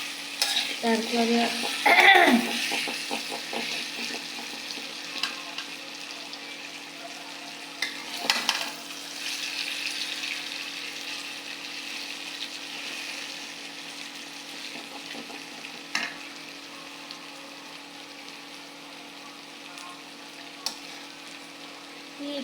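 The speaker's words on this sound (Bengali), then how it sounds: "আমার পেঁয়াজটা দেখুন আমি ভাজছি সুন্দর করে, পেঁয়াজটা বাদামি রং করবো আমি" Onions frying in a kadai until brown for pabda fish bhuna, a steady sizzle with stirring scrapes and clatters early on, settling into a quieter continuous frying hiss; a voice briefly speaks.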